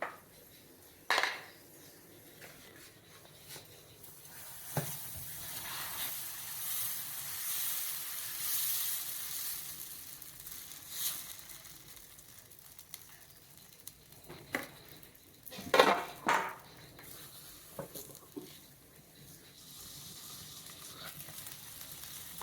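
A masala dosa fries in oil on a hot pan with a faint, steady hiss and sizzle. Occasional sharp pops and clatters of a utensil on the pan break in over half a minute of quiet cooking.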